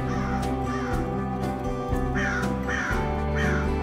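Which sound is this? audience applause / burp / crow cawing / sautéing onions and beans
crow cawing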